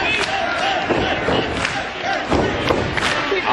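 Wrestling arena crowd during an MJ Jenkins vs Angelina Love women's match, a dense continuous roar with rising shouts and cheers, plus occasional thuds, loud and steady throughout.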